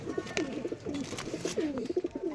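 A Rajshahi Giribaz pigeon coos up close in a rapid series of soft, rolling coos lasting a couple of seconds, with faint background noise.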